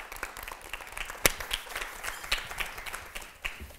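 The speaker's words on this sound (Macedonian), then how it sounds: "тоа аплауз што следи на почеток." Studio audience applauding on the Macedonian TV game show Среќно поле; moderate, slightly uneven clapping runs steadily for about four seconds with a few sharper claps standing out.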